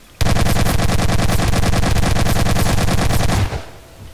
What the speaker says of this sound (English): Because I have a full auto shotgun